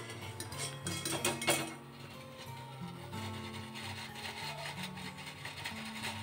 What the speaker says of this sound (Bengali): দেখুন বন্ধুরা, কীরকম আওয়াজ হচ্ছে মচমচ করে।